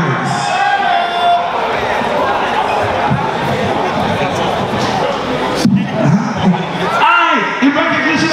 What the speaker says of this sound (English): Y'all give Tipton a round of applause